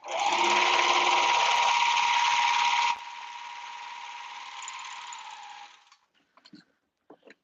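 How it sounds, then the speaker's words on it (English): A serger overlocks a fabric edge for a caftan with a loud, steady high-speed whir that drops in pitch partway through, runs on, then winds down and stops, followed by a few small clicks. "serge your edge. So that's what I'm going to do now before you stitch it on."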